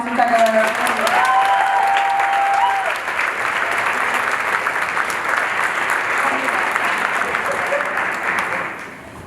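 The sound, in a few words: audience applause at a school concert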